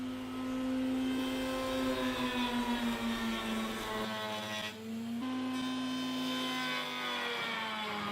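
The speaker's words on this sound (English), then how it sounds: "Just doing the 45 with the router now." A router cutting a 45-degree edge along a wooden piece, a steady high whine with a brief dip partway through as the cut strains, close and alone.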